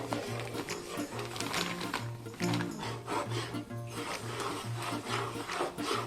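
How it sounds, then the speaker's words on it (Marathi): Gram flour (besan) is roasted in ghee over a low flame and stirred continuously, giving a steady scraping and rubbing of spoon against pan with a repeating rhythm and no talk. "आता हे मंद गॅसवर अगदी एक दहा मिनिटं भाजून घ्यायचं कारण का ते भाजलेलं आहेच पण तुपामध्ये भाजून घ्यायचं एकसारखं डवळत राहायचं"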